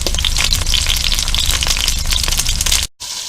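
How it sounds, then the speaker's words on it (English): Frog legs fry in a hot pan with dense, loud sizzling and crackling spitting continuously up close, then a sudden brief cut before the sizzle resumes. "We got the legs cooking, about 2 minutes per side."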